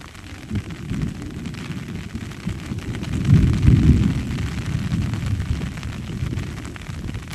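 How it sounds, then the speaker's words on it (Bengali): Deep thunder rumbles in a long, rolling swell that peaks midway and slowly fades, with no voices. "তোমরা হয়তো মেঘ ডাকছে সেই আওয়াজটা শুনতে পাচ্ছ"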